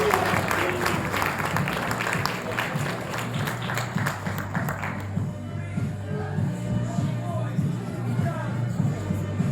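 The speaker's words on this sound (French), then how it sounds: "veuillez applaudir Lilou Arnaud." Audience clapping at a French eloquence contest final for vocational students, a dense burst of applause over a low hum that fades out partway, leaving quieter room shuffling and murmurs.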